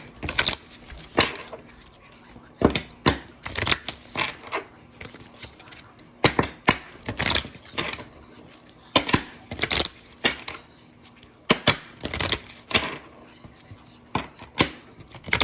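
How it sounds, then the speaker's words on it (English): Tarot cards being shuffled by hand, with irregular crisp slaps and riffles coming in uneven clusters, close and fairly loud, with short pauses between bursts. "I'm going to shuffle, pull a card real quick before I go."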